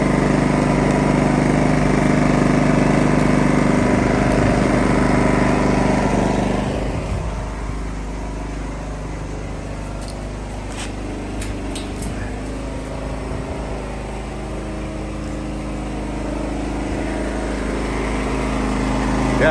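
A Champion portable generator runs with nothing plugged in, its engine droning loud and steady close by. Partway through, the drone drops to a lower, quieter pitch, then slowly builds back up toward the end.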